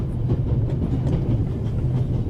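Train running on rails in The Raven Remastered, a steady low rumble with a faint rhythmic clatter of wheels, continuous and even throughout, with no talking.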